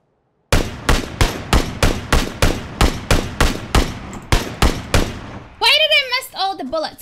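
Rapid single gunshots from a first-person shooter game, about fourteen sharp, evenly spaced loud reports in a steady rhythm, followed by a short burst of wavering electronic tones at the end.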